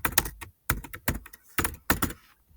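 Bursts of keystrokes on a computer keyboard as a name is typed, clustered in quick groups of taps separated by short pauses, close and fairly clear with no talking.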